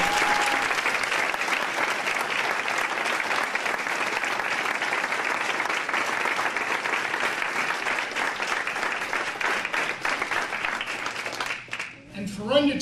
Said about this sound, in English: he deserves a round of applause for doing that